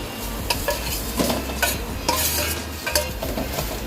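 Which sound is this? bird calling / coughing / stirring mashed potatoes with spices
stirring mashed potatoes with spices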